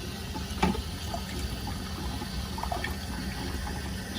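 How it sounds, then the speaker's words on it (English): Water runs out of a drain hose while a tankless water heater is flushed, a steady rushing and splashing stream with one short knock near the start. "Okay, so we got water coming out here."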